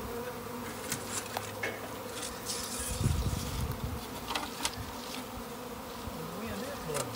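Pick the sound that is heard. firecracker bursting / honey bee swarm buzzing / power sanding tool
honey bee swarm buzzing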